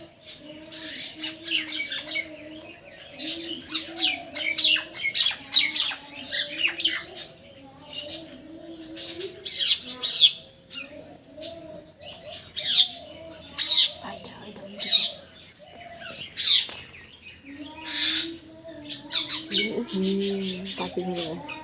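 Birds squawking and chirping close by in repeated sharp bursts, loud and busy throughout, with a low murmur of voices underneath at times.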